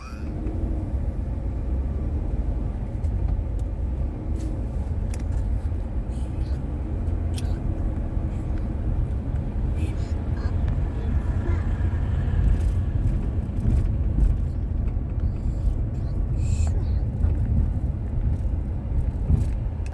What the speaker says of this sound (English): Can you guys see all that traffic way up there?